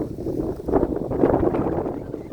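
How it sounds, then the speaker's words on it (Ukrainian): A gusty autumn wind on a November day outdoors, where a cow grazes, buffets the microphone in a continuous low rumble that swells and eases. "вітрено сьогодні, але дивіться, яка погода"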